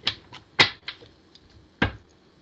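Tarot cards are shuffled close up, giving a series of sharp, dry slaps and riffles in an irregular rhythm with quiet gaps between them.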